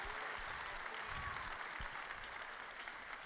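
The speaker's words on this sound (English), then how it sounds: "Big round of applause." Town hall audience applauds steadily for about three seconds in a dense, even wash of clapping with a few low thumps, no voices on top.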